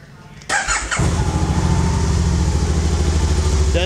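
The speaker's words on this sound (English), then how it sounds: "I was just gonna start it up here and let you hear it." Can-Am Spyder RSS three-wheel motorcycle being started: a brief starter crank, then the engine catches half a second in and settles into a loud, throbbing idle close by.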